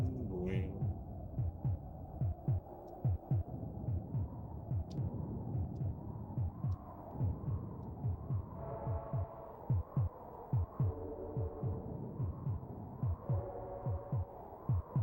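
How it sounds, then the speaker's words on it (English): A steady, low thumping heartbeat from the SNES video game Populous pulses at a regular, quickening pace. It plays alongside game music and effects, close and moderately loud. "does it sound like the heartbeat is actually like going faster?"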